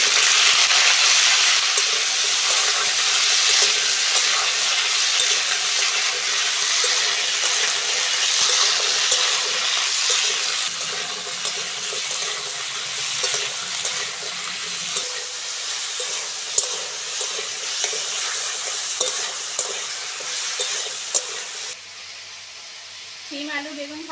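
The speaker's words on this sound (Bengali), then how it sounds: "সিম আলু বেগুন ভালো করে ভেজে নিয়েছি" Beans, potato and eggplant fry in hot oil in a wok, a steady loud broadband sizzle with stirring that eases and thins toward the end.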